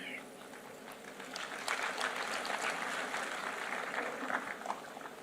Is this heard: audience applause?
yes